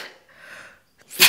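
A person sneezes sharply and loudly near the end after a breathy inhale, set off by dusty secondhand clothes, with no talking.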